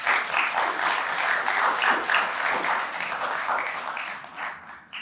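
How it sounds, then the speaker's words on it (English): Audience applauding at a Barbados marine spatial planning launch event, dense clapping from a room of people, close and lively, tapering off near the end. "I think we can give them a round of applause."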